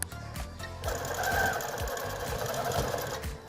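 A sewing machine quilting a couched quilt runs in a steady, close, loud stream of rapid stitches after a few brief starts.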